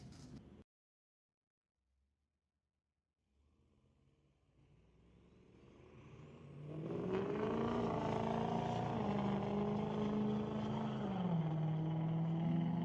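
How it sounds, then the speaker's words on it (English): Drag race launch between a diesel pickup and a Pontiac at Mission Raceway Park: after a brief burst and near silence, engines build from a low rumble into a loud, sustained roar with shifting pitch, no talk over it. "Diesel pickup trying to chase down the Pontiac."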